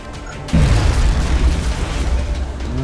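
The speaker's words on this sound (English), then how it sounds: "Throwing grenade." A grenade detonates in XCOM Long War with a sudden, loud, deep boom that rolls into a lingering low rumble and crackling debris for a couple of seconds.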